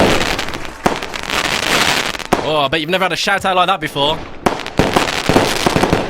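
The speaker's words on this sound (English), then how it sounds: "Fireworks for you." Fireworks sound effect played during a radio show, dense crackling bursts and pops filling the start and end, with a person speaking over a gap in the middle.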